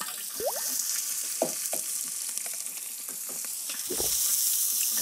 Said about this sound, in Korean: 야, 당근 같은 건 볶아야 되지.